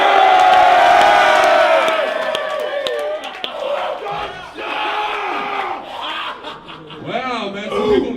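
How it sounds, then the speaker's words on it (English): An audience at a rap battle event erupts in loud cheering and shouting, a roaring crowd swelling and dipping in waves with individual whoops and yells standing out close by. "Crowd, make some noise!"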